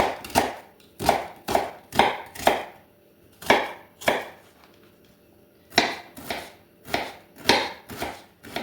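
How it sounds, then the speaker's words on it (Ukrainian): Rapid, crisp knife chops dicing onion finely on a cutting board, in quick bursts of steady rhythm with a short pause midway, close and loud. "Цибульку нарізаю мелким кубиком."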